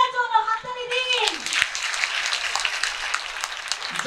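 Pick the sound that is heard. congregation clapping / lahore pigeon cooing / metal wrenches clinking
congregation clapping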